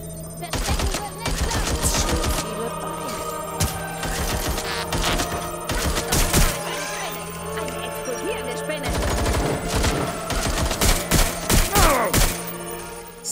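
Rapid gunfire from a gun turret in the video game Watch Dogs Legion, dense bursts of shots and impacts mixed with ringing electronic tones, loud and continuous throughout with game sound layered on top.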